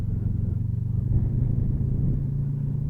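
A motorcycle engine holds a steady, loud low rumble while climbing in gear along a Norwegian mountain road near Ørnesvingen, the note rising slightly toward the end with no talk over it.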